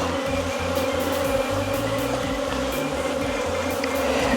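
Dense, steady buzzing of honey bees around a hive on a farm, close and continuous throughout with no voices.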